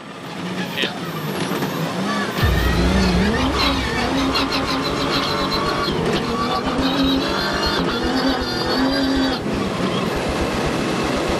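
An X-Raid Mini rally car in the Dakar 2025 rally labours up a hill on front-wheel drive only, its engine roaring loud and close with shifting revs and rumble, while a commentator speaks over it.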